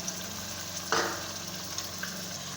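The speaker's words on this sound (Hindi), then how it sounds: "अब देखिए इसको अच्छी तरह हम 7-8 मिनट तक भुनेंगे" A steady, close sizzle of garlic ginger paste with yogurt frying in a pan for chicken korma, with a brief stirring scrape partway through; no talking.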